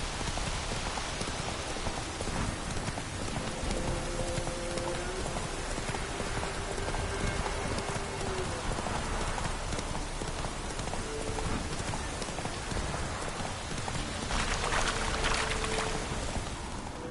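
A horse gallops in the video game Witcher 3, a steady patter of hoofbeats running under a constant rain-like hiss, with faint tonal sounds drifting in and out.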